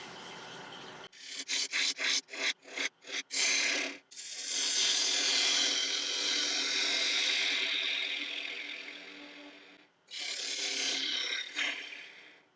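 A 3/8 inch spindle or ball gouge cuts African mahogany on a lathe turning at 1200 RPM. A run of short, choppy scraping cuts leads into a long, steady rasping cut, then a pause and another cut.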